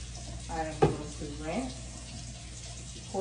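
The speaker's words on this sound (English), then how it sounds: "And now I'm going to turn my water on with a napkin." A tap runs into a sink beside a toilet in a care-facility bathroom, a steady close hiss and splash of flowing water with a brief clunk near the start, while a voice speaks over it.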